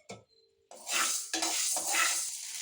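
Green gram tipped into a dry pan for roasting gives a short rattling clink, then a steady dense hiss and scraping of stirring that goes on without voices.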